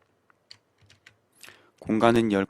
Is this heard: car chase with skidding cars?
no